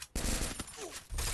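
Gunshots in the Free Fire battle royale video game, a burst of rapid fire followed by a second round of shots after a short pause, fairly quiet in the mix.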